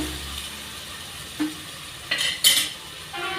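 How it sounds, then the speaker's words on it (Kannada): Food fries gently in a pan while methi palya chakkuli is being made, giving a low steady sizzle. A few short utensil clinks and scrapes break in near the end, with no talk. "ಸ್ವಲ್ಪ ಫ್ರೈ ಮಾಡ್ಕೊಳ್ಳೋದನ್ನು"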